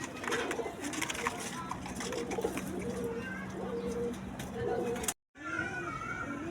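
A pair of high flyer pigeons, a male and a female kept in a Karachi loft, coo in repeated low rolling phrases close by, with a brief dropout near the end and someone talking over them.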